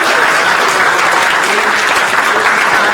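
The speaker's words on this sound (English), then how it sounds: "Can we give Ellen a round of applause?" Dense, loud applause from a large audience at a congressman's town hall meeting in Del Mar, continuous and even throughout without a break.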